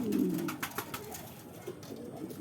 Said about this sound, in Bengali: আমার সামনে যে কবুতরটি দেখতে পাচ্ছেন টোপরালা লাল এটা সেই লুটন কবুতর